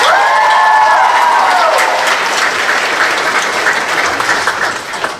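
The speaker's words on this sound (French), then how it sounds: "donc on pourrait les applaudir encore une fois." An audience applauding performers after a big show at a gala evening, dense loud clapping with some cheering and a brief whistle at the start, gradually thinning toward the end.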